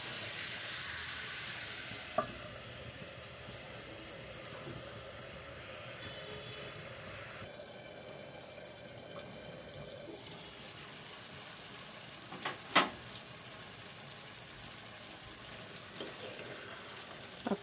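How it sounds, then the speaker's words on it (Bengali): Tomatoes fry in a pan for tomato chutney, giving a steady, soft, close sizzle with a few faint clinks scattered through. "আমি টমেটো একটু ভালো করে কষিয়ে নিচ্ছি"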